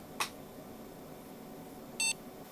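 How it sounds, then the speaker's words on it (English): A repaired computer gives two short electronic beeps on powering up, one near the start and a longer, tonal one near the end, set against a quiet room hiss with no talking. "There is a beep"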